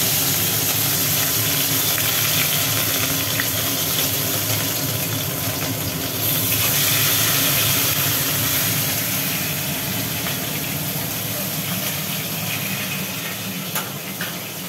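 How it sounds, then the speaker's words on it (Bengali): Tilapia fish fry in hot oil with a loud, continuous broadband hiss and sizzle that stays nearly constant throughout, with a kitchen chimney hood running nearby. "তেল মোটামুটি গরম হয়ে গেছে, এবার একটা একটা করে মাছ"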